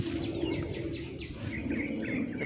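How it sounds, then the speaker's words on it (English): Birds singing outdoors during hibiscus tea preparation, light chirps and calls scattered through steady background noise, fairly faint and continuous with no talk. "The birds are singing."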